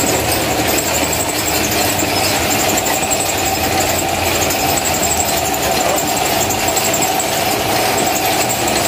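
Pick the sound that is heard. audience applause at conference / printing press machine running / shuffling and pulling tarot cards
printing press machine running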